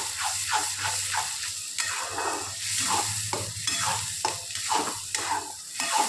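Finely ground masala paste roasting in hot oil for an egg curry, with a steady sizzle under repeated scraping, stirring strokes of a spoon in the pan, close and continuous.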